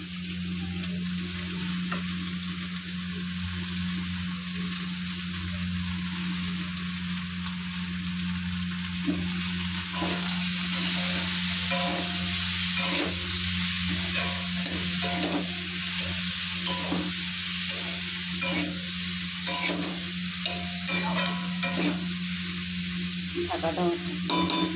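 Prawn curry with drumsticks and potatoes frying in a pan, a steady close sizzle with repeated stirring and scraping clicks throughout, over a constant low hum.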